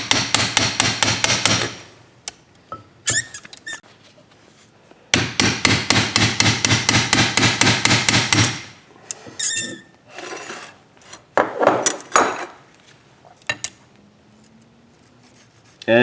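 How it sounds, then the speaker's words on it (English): A hammer strikes a brass punch against a car coilover, a 2010–2015 Camaro rear adjustable BC Racing unit, in fast bursts of sharp metallic blows. Between the bursts come pauses and a few scattered single hits and clinks. "I'm just going to go ahead and hit this with the brass punch"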